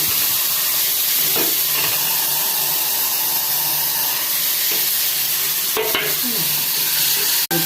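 Tomatoes sizzle and fry in a pan with browned onions, a steady close hiss and crackle running throughout with a few stirring scrapes and clatters near the end, no talking.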